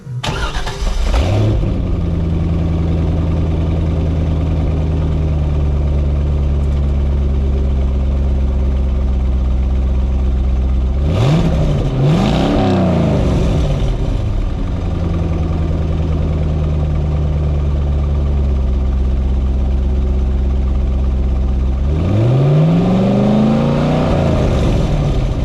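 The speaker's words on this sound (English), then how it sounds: "So let's hear the sound of this stock setup with the H-pipe." A C5 Corvette on its stock exhaust with an H-pipe and Z06 cat-back idles loudly and steadily, broken by two sharp rev blips midway and near the end; no voices.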